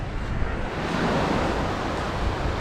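Sea waves wash onto a wide white-sand beach at Pico de Loro, a steady, loud surf roar with wind rushing across the microphone and no talking.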